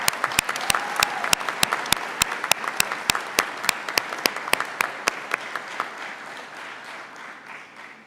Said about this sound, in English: A well-deserved round of applause is appropriate at this time